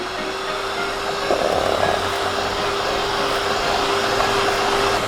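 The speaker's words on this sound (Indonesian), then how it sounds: "Baru kita naikkan speednya ke kecepatan tinggi atau full sampai mengembang" Electric mixer beating sponge cake batter at high speed, a loud steady whirring drone that continues unbroken throughout, close by and with no voices over it.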